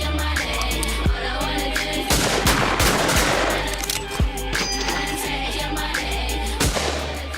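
Shotgun fire at a shoot, heard as repeated close cracks with a burst of dense firing in the middle over a steady outdoor rumble, with no talking.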